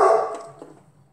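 A dog barks at someone passing by, a loud burst at the start followed by a couple of fainter yips that trail off.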